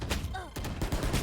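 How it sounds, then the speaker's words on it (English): Gunfire in a Valorant match, short sharp bursts of shots in quick succession, crackling close and loud against faint background tones with no talk. "Sage taking some gunfire."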